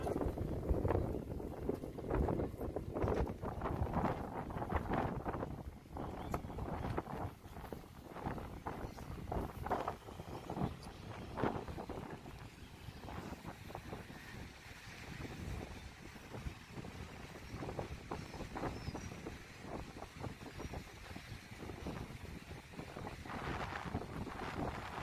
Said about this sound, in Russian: Здесь, конечно, ветер еще сильнее.